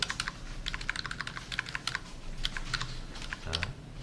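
Quick clattering keystrokes on a computer keyboard, including presses of the Shift key, heard close and alone in a fast, irregular rhythm with a heavier thump near the end.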